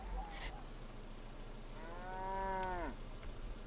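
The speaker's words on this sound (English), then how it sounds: "Well, I do hear the cow." A cow in the farming video game Trader Life Simulator gives a single drawn-out moo with a falling tail, fairly clear against a low background hum, with no talking.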